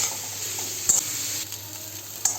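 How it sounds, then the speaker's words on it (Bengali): Salted, turmeric-coated soya chunks fry in a pan with a bright, even hiss, punctuated by two sharp spatula scrapes, close and without any talking. "সয়াবিনগুলো মোটামুটি একটু ভাজা হয়ে গেছে।"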